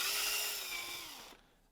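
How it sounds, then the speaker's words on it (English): A power drill bit bores out a hole in a 3D-printed rifle part, giving a steady high whirring grind that winds down and stops after about a second and a half. "we will start by drilling that hole out with the correct size bit"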